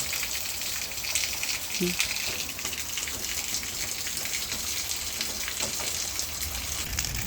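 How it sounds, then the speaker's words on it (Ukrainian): Light rain falls steadily in a garden, a soft continuous hiss of drops with a faint brief voice sound partway through. "Трошки дощик поливає мене"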